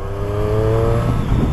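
Triumph Street Triple S 660 motorcycle engine with stock exhaust, a steady close engine drone with a rising rev tone, loud and continuous without speech.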